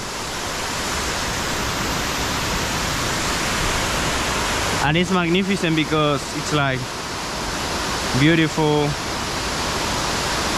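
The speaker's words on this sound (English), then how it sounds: "This is the sacred waterfall." Steady, broad rushing roar of a waterfall near Warrumbungle National Park, loud and continuous throughout, with a person speaking briefly over it midway and again near the end.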